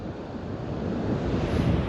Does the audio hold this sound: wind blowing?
yes